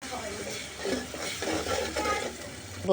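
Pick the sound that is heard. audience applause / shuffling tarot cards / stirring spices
stirring spices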